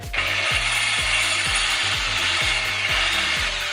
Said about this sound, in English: I'm going to use the actual shaft to clear it out, because it's got teeth on it